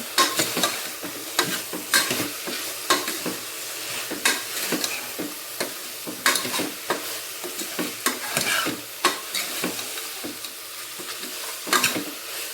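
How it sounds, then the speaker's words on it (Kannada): A spoon stirs a couple of spoons of chili powder into a temple-style sambar base in a pan, making rhythmic scraping strokes with light sizzling, close and clear, without any speech. "ಹಾಗೆ ಒಂದೆರಡು ಸ್ಪೂನ್ ಖಾರ ಈಗ ಚೆನ್ನಾಗಿ ಮಿಕ್ಸ್ ಮಾಡ್ಕೊಂಬಿಡೋಣ"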